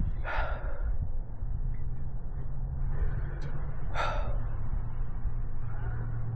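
Heavy gasping breaths from a person who has just eaten a very hot pepper, the Toe of Satan, come in two loud bursts with quieter panting between them over a low steady hum.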